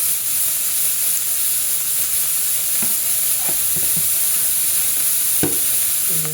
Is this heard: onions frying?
yes